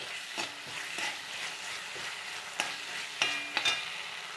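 A spoon scrapes and stirs through a thick masala with sauce for cauliflower fry in a frying pan, with a few sharper clinks against the metal and a soft sizzle underneath.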